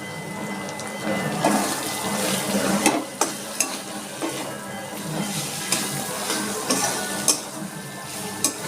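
Chicken is stirred in a hot pan on low heat, a soft steady sizzle broken by scraping and tapping of a spatula against the metal, with no talking.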